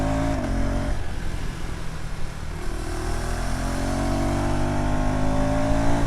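A KTM ADV 390 motorcycle's 349 cc single-cylinder engine drones steadily, its pitch dropping with a downshift and then climbing again, loud and close with wind noise.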